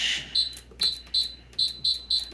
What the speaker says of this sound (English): Sorry about this beeping.